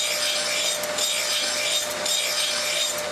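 Golf course mower reels being sharpened in an equipment barn, a steady abrasive rubbing and grinding that holds at an even loudness and surges slightly in cycles, with no voices.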